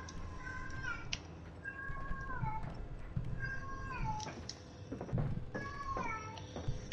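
A cat meows repeatedly in the video game Call of Duty: Modern Warfare, drawn-out, wavering cries, several calls in a row over a steady low background rumble.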